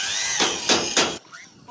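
A drill with a number 8 bit bores into a broken, welded bolt, whining steadily at close range with three short surges in pitch before it cuts off.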